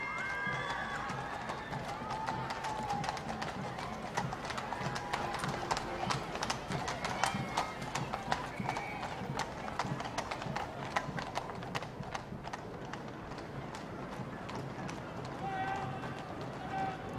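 Horse-drawn carriages roll in procession along the approach road near Horse Guards Parade at Trooping the Colour, with steady clip-clopping hooves, a faint crowd and a commentator speaking over them throughout.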